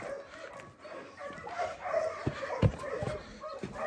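Stray dogs at a feeding spot, whimpering and letting out short yips and barks at close range, irregular and overlapping, with a person's voice heard at times.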